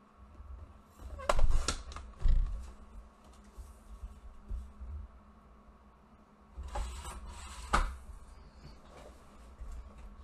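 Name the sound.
paper trimmer cutting a 1.5 inch cardstock piece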